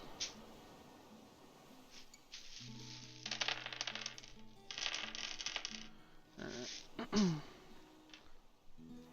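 Dice are shaken and rolled during a tabletop game session, giving several bursts of rattling clatter in a row and then a final tumble, with a few faint voices murmuring in the background.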